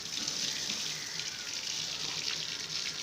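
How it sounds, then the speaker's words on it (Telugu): Water leaks and runs down the walls of a house, a faint steady trickling hiss throughout. "మొత్తం వాటర్ గీటర్ లోపల బయట చూడండి ఎలా కారుతున్నాయి నీళ్ళు."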